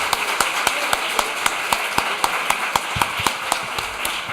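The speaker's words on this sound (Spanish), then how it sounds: "un aplauso para Joana por estar aquí," A small group at the closing ceremony of a UN General Assembly simulation claps for Joana, with sharp, fairly regular hand claps sounding close and distinct over a murmuring room.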